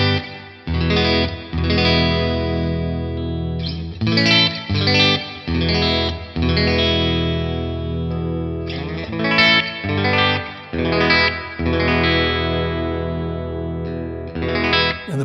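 An electric guitar plays chords through an overdriven tube amp, thick and slightly distorted with a shimmering chorus-like sheen, strummed in rhythmic phrases with no voices.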